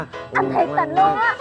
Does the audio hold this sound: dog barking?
yes